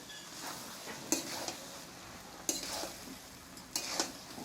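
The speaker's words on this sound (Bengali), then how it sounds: "এরকমভাবে ওপর নিচ করে ভালো করে কষাবেন যাতে মশলাটা সব জায়গায় যায়" Fried raw jackfruit and potato are tossed with spices in a pan, a faint, even sizzle broken by a few sharp spatula scrapes and clinks against the metal.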